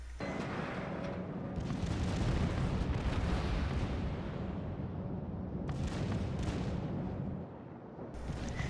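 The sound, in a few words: battleship secondary batteries firing and explosions, World of Warships video game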